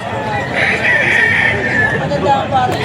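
Chickens and roosters at a poultry auction market in Bocaue, crowing and clucking amid steady crowd chatter and nearby voices, a rooster crow standing out briefly.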